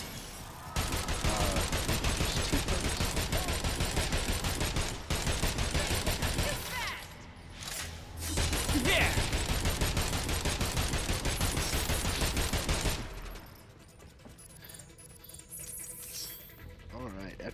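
Gunfire rattles almost nonstop in a video game, a loud dense fusillade of rapid shots with a brief lull midway before it stops abruptly, followed by quieter sounds and a voice speaking.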